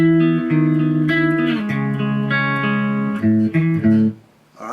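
Clean-toned electric guitar plays the interlude of a song as sustained, ringing chords and held notes that shift every second or so, loud and close with no voice over it.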